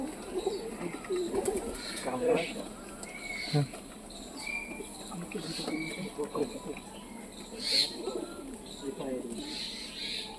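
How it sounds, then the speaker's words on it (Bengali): Teddy pigeons coo in low, soft repeated bursts at close range, mixed with faint chirps and rustling, while someone talks over them. "সব বন্ধ দমের পায়রা আছে সব সব কটা সব বন্ধ লেজের পায়রা আছে সব এক কাঠির পায়রা"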